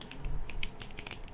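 Rapid clicky keystrokes on a computer keyboard during a modded Minecraft session, a quick uneven run of close, crisp taps with no voice over them.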